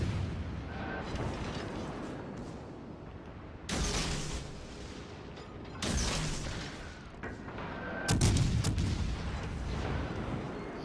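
Japanese cruiser Yahagi in World of Warships firing armor-piercing rounds: three heavy booming salvos spaced a few seconds apart over a constant low engine and ambient rumble, loud and close.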